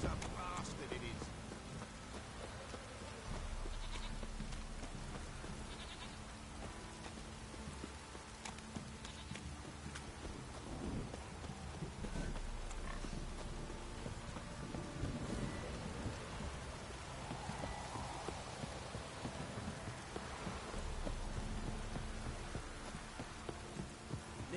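Heavy rain pours with low rolls of thunder in The Witcher 3, a constant wash of rainfall under booming rumbles, with horse hooves clopping and a voice speaking at times.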